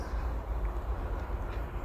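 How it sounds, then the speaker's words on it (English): A low, steady rumble of a passing train of empty wagons, fairly distant, heard from a drone, with no other sounds standing out. "Oh, I can hear a train."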